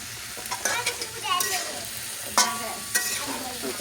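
Vegetables and spices sauté in a pan for a fish, potato and cauliflower curry, with a close hiss broken by several sharp scraping stirs and clatters of a spatula against the pan, and no voice is heard.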